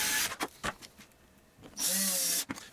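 Power drill driving number 6 screws into wood, a couple of short whirring bursts between brief pauses and small knocks, close and fairly quiet.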